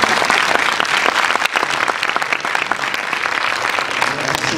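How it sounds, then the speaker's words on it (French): A cinema audience at a film premiere applauding loudly, a thick, sustained crackle of many hands clapping close and steady with slight swells throughout. "C'est bien que vous vous applaudissiez vous-même."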